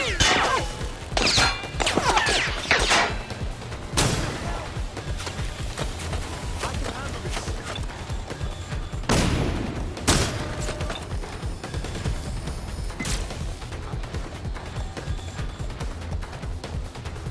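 Gunfire erupts during a firefight in Watch Dogs: Legion, with repeated sharp shots and crashing impacts in irregular bursts over a dense, loud game soundscape, voices occasionally heard.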